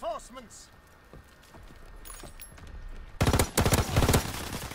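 In a Call of Duty WW2 match, Sterling submachine gun fire crackles out in a rapid close burst of shots near the end. A voice speaks over quieter game sounds beforehand.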